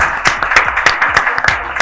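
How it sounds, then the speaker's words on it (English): Applause for Mr. Nandan Bani at a company Diwali gathering, a small group clapping with distinct, loose individual claps spread evenly through the moment, fairly close and loud. "Can we have a big round of applause for Mr. Nandan Bani, everyone?"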